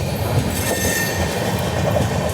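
Mumbai Hyderabad SF Express rolling along the rails, a loud continuous rumble with metallic wheel squeal and light clatter, close and steady with no talking.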